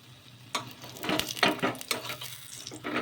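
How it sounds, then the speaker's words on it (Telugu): Corn flatbread roasting on a hot pan at home, flipped to cook the second side, with soft scraping and light sizzling bursts over a low, steady background hiss. "ఇటు సైడ్ కూడా ప్లేట్ పెట్టేసుకొని కాల్చుకోవాలి"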